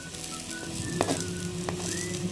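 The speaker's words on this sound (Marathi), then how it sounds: "आता पुन्हा झाकण ठेवून भाजून घेऊया याच पद्धतीने" Litti roasting in a covered pan gives a steady, soft sizzle with faint crackles, close and continuous, with no voices over it.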